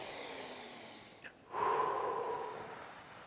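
During meditation breathwork, one person takes a single deep, slow breath: a brief sniff in, a pause, then a long soft exhale, close and quiet.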